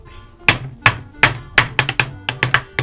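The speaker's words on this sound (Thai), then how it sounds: "นี่หั่นให้มันแหลกๆเร็วๆอย่างนี้แหละ" Knife chopping fresh herbs for a tom yum with offal on a cutting board, a series of close, sharp knocks in an uneven rhythm, about a dozen quick strokes with short bursts clustered near the end, no talking.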